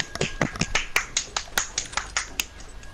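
A quick series of sharp claps or snaps repeats at an even pace, about a dozen crisp hits in a row, moderately close.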